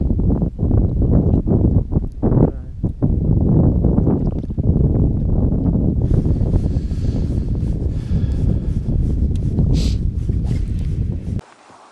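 Steady, rushing wind buffets the microphone outdoors on a fishing boat, loud and continuous, with a few brief knocks early on and no talking.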